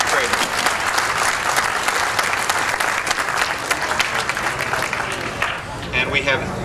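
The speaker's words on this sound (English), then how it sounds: "Round of applause for all of our 7th graders." Sustained, loud applause from an audience honoring a group of 7th graders at a school event, steady dense clapping throughout with no break.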